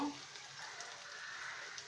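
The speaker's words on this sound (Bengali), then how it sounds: "3 থেকে 4 মিনিটের মতো অপেক্ষা করি পেঁয়াজটা ভাজা হওয়ার জন্য" Onions with a pinch of salt fry quietly in a pan, giving a soft, even sizzle that runs throughout at low level.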